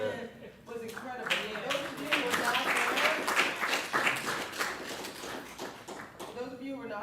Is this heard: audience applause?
yes